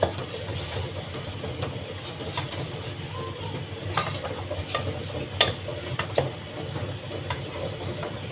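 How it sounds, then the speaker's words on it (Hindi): Drumsticks and potatoes stir-fried in oil-rich masala, with a steady low sizzle and scattered scrape-and-clink stirring taps throughout, fairly close and moderate in level, no voices. "अब इसमें हम ये फलियाँ और आलू डालते हैं। इसको अच्छी तरह से हम भून लेंगे।"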